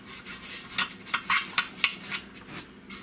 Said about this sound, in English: all I'm doing is using brake cleaner, and I'm gonna clean out these valve covers